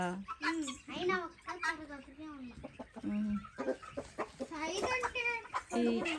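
Hens cluck and cackle repeatedly at close range, a busy run of calls with a person speaking alongside them.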